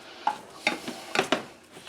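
A spoon presses and smashes tater tots into a solid crust in a pan, a few separate soft thuds and scrapes spaced unevenly, close and clear with no talk.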